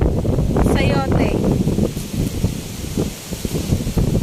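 Strong wind buffets the microphone at a seaside picnic where food is being cooked outdoors, a loud rumbling gust that rises and falls while people talk nearby.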